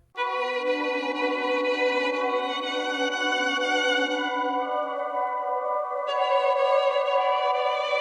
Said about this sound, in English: It's with the omnisphere and the violin together.